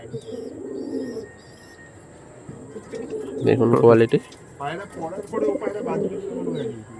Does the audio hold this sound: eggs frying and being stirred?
no